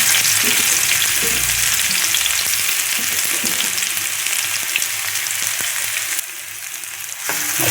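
Mango fry being stirred in a hot pan with mustard seeds already popped, giving a loud, steady sizzle with scraping strokes throughout, briefly dipping near the end before resuming.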